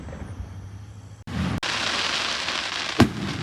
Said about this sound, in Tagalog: And there's fireworks in front of me.